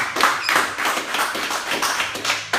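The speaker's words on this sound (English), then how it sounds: "let's have a round of applause for our two panel members, Judy and Eric, who did a fabulous job" A small audience at a beachside drug awareness forum broadcast claps for two panel members, a close, dense patter of hand claps that holds steady for a couple of seconds.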